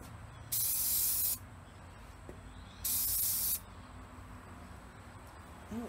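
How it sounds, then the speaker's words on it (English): An aerosol can of gold spray paint sprays onto lamps in two loud, close hissing bursts of just under a second each, separated by a quiet pause. "So let's give it a spray and see what it"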